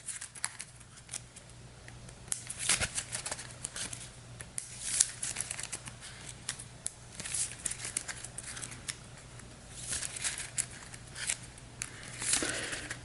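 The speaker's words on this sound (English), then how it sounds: "Give this a quick shuffle." A deck of game cards for the legacy board game Call to Adventure being shuffled, giving repeated soft riffling and crackling bursts at close range over a quiet background, with no talking.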